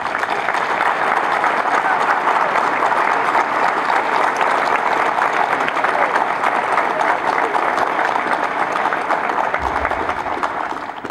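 A crowd at a 50th anniversary ceremony for the Rivadavia volunteer firefighters gives loud, sustained applause, dense steady clapping that holds for about ten seconds before tapering at the end.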